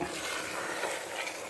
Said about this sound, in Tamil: அடி பிடிக்காமல் நல்லா கலக்கணும்.